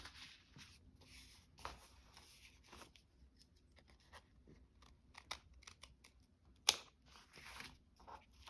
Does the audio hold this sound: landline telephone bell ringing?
no